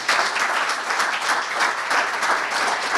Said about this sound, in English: I think we deserve a special round of applause for Dr.